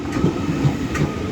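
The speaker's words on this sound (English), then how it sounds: "And now terminating in a blurry fashion will be a Northern Class 331 from Leeds, worked by 331003." A Northern Class 331 electric multiple unit arriving at Doncaster station on the East Coast Main Line makes a brief rumble of wheels and rail noise, close and steady, with no talk.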